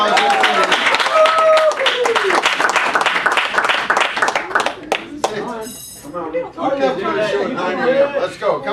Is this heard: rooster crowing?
no